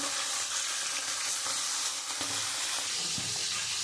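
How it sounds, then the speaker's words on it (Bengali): Tilapia fish frying in hot oil in a pan, a steady dense sizzle and hiss with a few soft knocks and stirs, close up and without talk. "আমার তেলটা গরম হয়ে গেছে, আমি এবার মাছটা দিয়ে দেবো। আমি মাছগুলো লাল লাল করে আমি"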